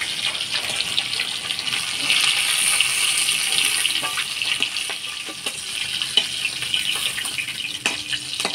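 Pieces of fish frying in hot oil in a village kitchen, cooked until crisp, give a steady close hiss and crackle, with occasional sharper pops and light clinks, and no talking.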